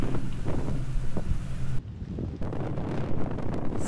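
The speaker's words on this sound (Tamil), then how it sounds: "சரியான காற்றுங்க, தாங்க முடியல, கேப்லாம் பறந்து போயிடும் போலங்க" Strong gusty wind buffets the microphone at Moonta Bay jetty in South Australia, a continuous low roaring rumble that swells and dips, with a brief lull midway before the gusts pick up again.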